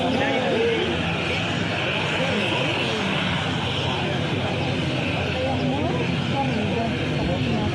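A 60-passenger propeller airplane drones steadily nearby, its engine hum constant throughout while people talk faintly underneath.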